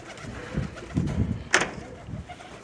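Soft cooing of Birmingham Roller pigeons in a loft, in low murmuring bursts, with a brief sharp flutter or clatter midway, close by and fairly quiet.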